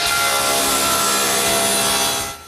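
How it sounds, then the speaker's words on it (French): A saw cuts through a block of wood in a loud, continuous, close-up rasping stroke that stops abruptly at the end. "Je commence par couper un bloc de bois pour le mandrin que je veux faire."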